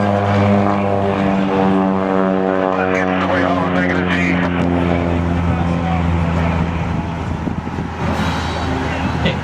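A propeller-driven aerobatic airplane flies upside down during a 2012 air show, its loud, steady engine drone holding close and continuous throughout with a slight rise and fall in pitch.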